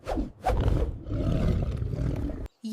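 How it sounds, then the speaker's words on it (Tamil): A lion in a cartoon children's story, caught in a hunter's net, roars loud and close with several heavy rumbling bursts one after another, then breaks off abruptly. "சிங்கம் உதவி கேட்டு பெருமூச்சுடன் கர்ஜித்தது."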